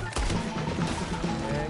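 Gunfire in the video game Red Dead Redemption II, a quick burst of rapid shots crammed into under two seconds, sharp and dense against the game's background noise.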